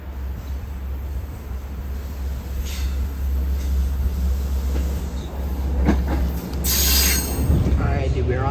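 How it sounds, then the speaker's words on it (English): A train pulls into Greenvale station on Long Island with a low steady rumble and rising mechanical rattling and screeching, heard from the platform as it draws near and fills the scene. "Here comes the train"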